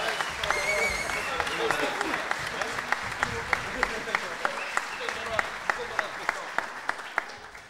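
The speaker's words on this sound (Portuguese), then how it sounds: "Quero que vocês levem convosco esses aplausos da Vila Nova." An audience applauds at a carnival bailinho performance in Cabo de Praia, a dense sustained clapping with a steady beat of sharper claps running through it, while people talk over it.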